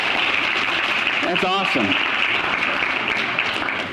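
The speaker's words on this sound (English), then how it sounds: "could everybody else give these guys a round of applause?" A church congregation applauds a group from Goshen Lane Elementary, steady loud clapping filling the room throughout while someone speaks briefly over it.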